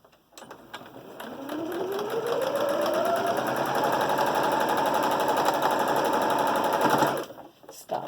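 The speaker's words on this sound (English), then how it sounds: "So I just start at the corner there, and I sew it across" A sewing machine runs in a fast, steady mechanical chatter while stitching across a fabric mask, close and continuous for several seconds before stopping abruptly.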